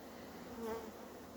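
Honey bees buzz in a steady drone at an apiary, with one insect passing close and briefly louder before fading back into the hum.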